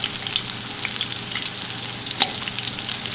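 Battered fish frying in a large skillet of hot oil, a steady soft sizzle with scattered crackles and pops, quiet and close, no voices.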